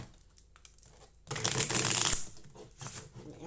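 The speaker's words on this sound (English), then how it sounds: "So we're gonna shuffle these cards a little bit." Tarot cards are shuffled in a brief, close burst of papery riffling lasting about a second, with faint handling sounds before and after.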